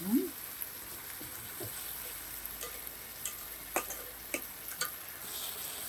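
Mango pieces cooking in sugar in a pan give a faint, low sizzle with sparse clicks and scrapes as they are stirred, the spoon ticking against the pan a few times.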